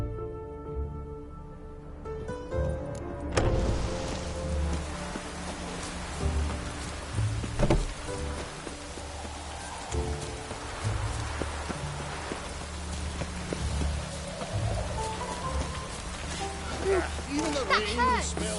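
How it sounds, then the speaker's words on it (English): Rain falling in The Witcher on PS4, a steady broad patter of drops that runs through the whole stretch, mixed with game music and ambient sounds, with a few brief louder hits along the way. "Even the rain smells like piss in this."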